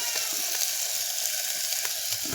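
Onion stir-fried in a pan until lightly browned, a close, continuous crackling sizzle with soft stirring scrapes and no voices.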